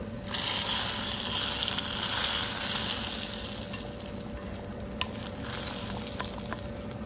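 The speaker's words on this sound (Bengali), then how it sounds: "এখন মরিচ সহ খুব ভালোভাবে ভেজে নেব।" Dried chillies frying in hot oil for a masoor dal tempering, a steady bright crackling sizzle that is loudest early and eases slightly later, with a few clinks from stirring and no talking.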